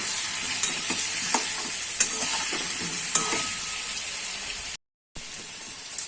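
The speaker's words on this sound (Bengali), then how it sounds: "আমি আলুটাকে ভেজে নেব।" Potato pieces frying in hot oil, a steady bright sizzle with a few soft stirring clicks and a brief drop to near silence toward the end.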